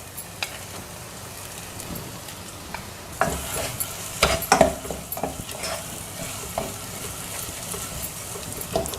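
Curry being stirred in a hot pan for a corn makhani dish, a spoon scraping and clattering in uneven bursts over a steady sizzle, busier in the second half, with no talking.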